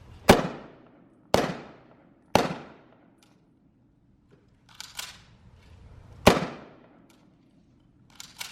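A bolt-action rifle fires sharp, loud cracks that ring out and decay outdoors at a re-enactment demonstration in Fredericksburg, Texas: three shots about a second apart, then quieter reports and another loud crack after a pause.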